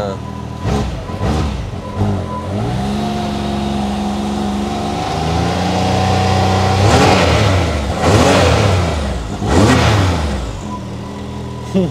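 An SSV side-by-side, adapted for a paraplegic driver and fitted with its original silencers, revs up and down repeatedly, engine pitch climbing and falling loudly and close, while people talk over it.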